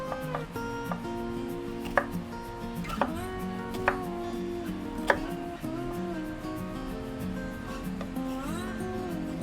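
Knife chopping onions on a board for Kapampangan sisig, a string of sharp knocks at an uneven, unhurried pace, close and clear over a faint background hum.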